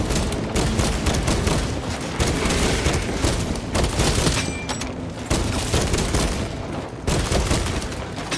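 Heavy bolt rifle fire in Warhammer 40K Space Marine 2, loud sustained bursts of rapid automatic shots with heavy booming impacts, broken by brief pauses around the second, fourth and seventh seconds.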